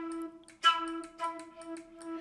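A Passion Flute virtual instrument holds a steady mid-range note. Several breathy, airy attacks re-articulate it in quick succession, soft and close, with no voice.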